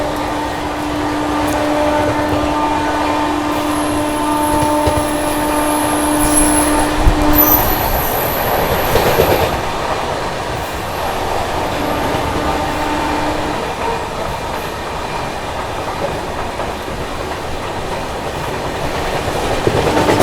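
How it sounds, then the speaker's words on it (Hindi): Goa Sampark Kranti Express running through Kosi Kalan railway station without stopping, a loud continuous rumble of wheels on rails with rhythmic clatter, sustained horn-like tones and a high squeal near the middle. "यहाँ पर अपनी ट्रेन स्किप कर रही है कोसीकला रेलवे स्टेशन को।"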